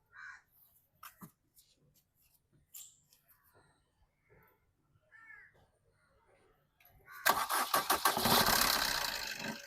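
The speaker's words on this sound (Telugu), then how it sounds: "సింగిల్ సెల్ఫ్లో బండి స్టార్ట్ ఉంది సార్" Crows caw sporadically in the background, then a 2016 Maruti Vitara Brezza ZDI+ diesel engine cranks and fires on the first try, settling into a loud, rough, clattering idle close by.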